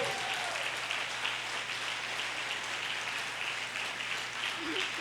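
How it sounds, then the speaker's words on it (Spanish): A church congregation applauds during a Spanish family worship service, a steady broad wash of clapping with no breaks that runs the whole time at moderate level under a faint low hum. "Dale más fuerte ese aplauso al Señor."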